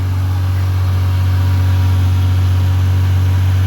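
Toyota Supra engine running at a steady idle, a loud, close, unbroken low hum with a constant drone and no voices.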